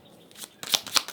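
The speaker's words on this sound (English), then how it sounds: "As I say that, I flip over your card, your major, the Chariot." A tarot card is flipped over during a reading, giving a couple of quick, crisp papery snaps close to the microphone after a soft brush of cards.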